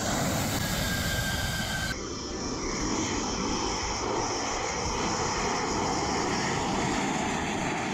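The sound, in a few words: Rafale fighter jets landing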